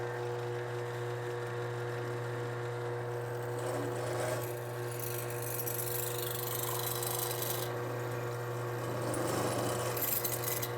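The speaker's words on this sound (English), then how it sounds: "Let's go ahead and drill through." A power drill bores through a clamped superstructure part, giving a steady, continuous high whir that holds for about ten seconds with no talking.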